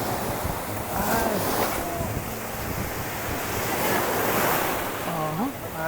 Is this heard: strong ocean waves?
yes